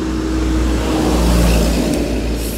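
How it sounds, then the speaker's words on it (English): Heavy road traffic rumbles past outdoors, a loud continuous engine drone with deep low rumble swelling and easing as a truck goes by. "Excuse the trucks here."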